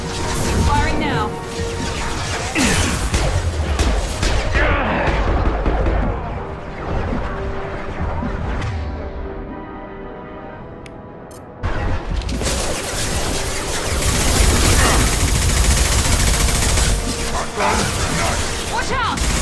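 Combat in the Mass Effect video game brings a dense, continuous din of weapon fire, crashes and heavy blasts, loud throughout. The clamour dips briefly midway, then surges back to full intensity, with voices shouting over it.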